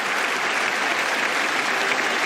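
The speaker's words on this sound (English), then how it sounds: "everybody in attendance here in Birmingham is on their feet applauding" The Edgbaston crowd in Birmingham stands applauding the end of Babar Azam's innings of 158 at the England versus Pakistan one-day international, a dense, even roar of distant clapping from thousands without letup.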